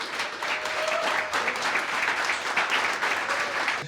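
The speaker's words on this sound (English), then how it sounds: "Big round of applause for Vijaywada Riders Club." Audience applause at a riders club meetup, steady dense clapping from a crowd throughout, close and fairly loud.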